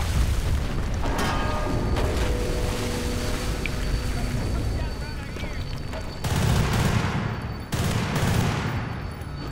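Gunfire and bullet impacts in the video game Battlefield Bad Company 2, with sustained bursts and rattling volleys that swell louder near the end. Someone talks over parts of it.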